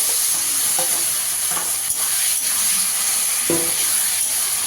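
Teasel gourd (kakrol) stir-fries with onions in a hot pan, a constant sizzle broken by several short scraping stirs of a spatula, close and fairly loud, with no talking.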